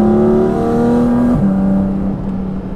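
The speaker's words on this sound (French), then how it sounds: "La sonorité est folle, en plus là juste à côté comme je t'ai dit, il y a l'admission qu'on entend." Porsche Cayman GT4 RS engine and intake heard from inside the cabin, a loud high-revving tone that drops sharply midway, as on a gear change, then holds a lower steady pitch.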